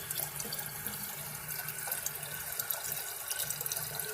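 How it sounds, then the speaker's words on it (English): Regular tap water runs steadily from a faucet into a clean jug, a continuous broadband hiss and splash with faint trickling detail, filling the space without any talk. "I fill my jug up with water"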